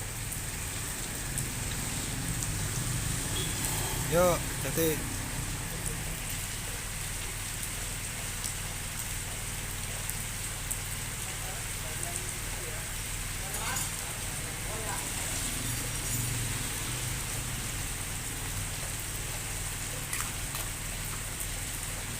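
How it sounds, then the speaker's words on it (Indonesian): Light drizzle falls steadily in a village while a motorbike tire is being repaired, a soft continuous patter with people talking now and then over it. "Masih gerimis."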